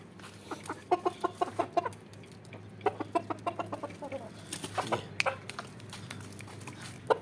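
Chickens and a rooster cluck in rapid, rhythmic bursts during a morning feeding of chicks, fairly faint and steady over low background hum, with no voices.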